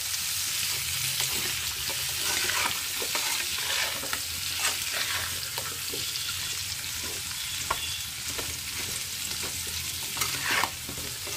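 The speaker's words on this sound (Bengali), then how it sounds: "এই যে তেলে হালকা একটু ফ্রাই করে নেব" Elephant foot yam lightly frying in oil with turmeric powder and salt, a steady soft sizzle broken up by repeated stirring scrapes in the pan, no voices.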